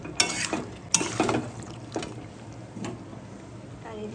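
Chicken sizzles in a pan as it is stirred, with scraping strokes and bursts of frying under a steady background hiss, close and moderately loud.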